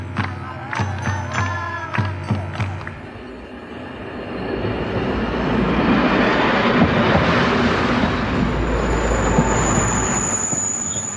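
Train on a northern Portugal railway carrying grape harvest workers, with rhythmic metallic clanks and squeals early on giving way to a steady rolling rumble of wheels on track.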